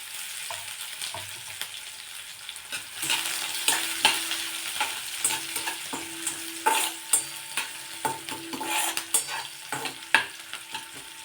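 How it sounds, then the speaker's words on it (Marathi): Chopped onion sautés in hot oil with garlic and curry leaves, giving a soft, steady sizzle broken by repeated sharp scraping and tapping as a spoon stirs the pan. "आता कांदा आपण तेलावरती थोडासा परतून घेणार आहोत"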